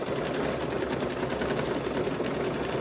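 A sewing machine stitches binding onto a fall quilted table runner with a steady, close, continuous whir and rapid needle chatter, with no voices.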